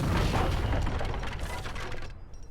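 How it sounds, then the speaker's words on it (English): A house is blown up in an Age of Empires 3 match, a loud, dense booming blast with rumbling debris that fills the moment and then tails off, with no talk over it. "They will blow up a house."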